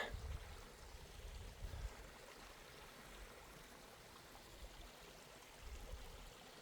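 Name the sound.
small stream flowing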